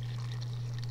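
Alabaster plaster mixed to the thickness of thick sour cream is poured, a brief soft liquid pour over a steady low hum, with no talking.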